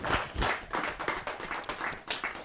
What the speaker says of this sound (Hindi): जरा जोरदार ताली के साथ उनका धन्यवाद।